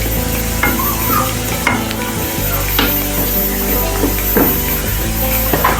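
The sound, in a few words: garlic and spices sizzling in hot oil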